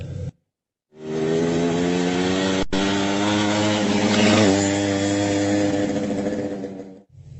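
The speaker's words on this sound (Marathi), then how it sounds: "मोटरसायकल." A motorcycle engine runs close by with a steady, buzzing harmonic drone, holding nearly level for about six seconds with a slight swell midway before cutting off.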